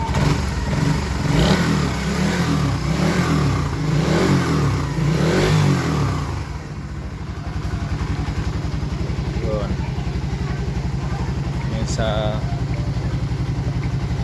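A flood-submerged Raider 150 Fi motorcycle engine revs in pulsing bursts, then settles into a steady, rough idle; a voice talks faintly over it.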